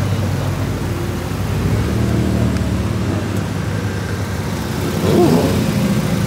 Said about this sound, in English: 718 Boxster RS.